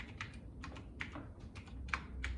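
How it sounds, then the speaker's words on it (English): Keys tapped on a computer keyboard while entering a Python command to switch an LED off on a Raspberry Pi, a close, steady run of sharp clicks with a few louder strokes, no voices. "And now if I type LED dot off, open bracket, close bracket, and click on enter, it would become off."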